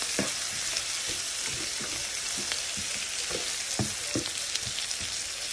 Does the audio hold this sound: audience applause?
no